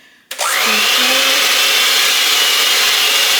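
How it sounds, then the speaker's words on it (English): Electric hand mixer whipping cake frosting at medium-high speed, kicking on abruptly and holding a steady, loud whir throughout, close up, with no talking. "Now we're gonna take our hand mixer. We're gonna basically knead this until it's white and fluffy."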